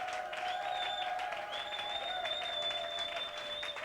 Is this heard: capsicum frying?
no